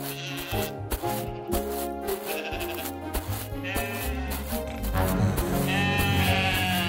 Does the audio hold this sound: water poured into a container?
no